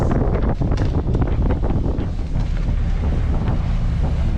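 A fast boat with two Mitsubishi 8DC9 engines running at speed, heard as a loud, continuous roar of engine and rushing water mixed with heavy wind buffeting.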